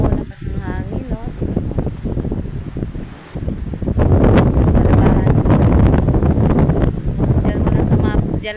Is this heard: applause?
no